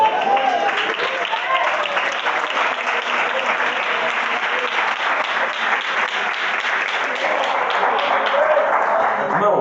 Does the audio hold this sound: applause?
yes